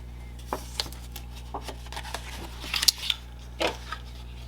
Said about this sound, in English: So I'm going to fold those tabs away from me.